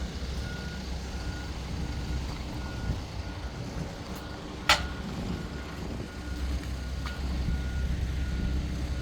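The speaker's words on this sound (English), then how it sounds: "I'll just take you back here as this truck tries to get in." A truck backing into a tight spot on a building site gives off repeated reversing beeps over a low idling engine rumble, with a sharp brief clank partway through and no voices.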